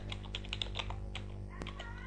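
Quick, light keystrokes on a computer keyboard tap out an irregular run of clicks over a low steady hum, faint and close, during accounting data entry.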